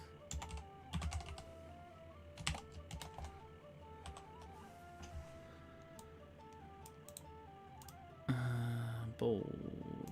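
Typing on a worn computer keyboard gives quick, close bursts of key clicks with pauses between them, under a faint steady background tone and ending in a brief loud buzz.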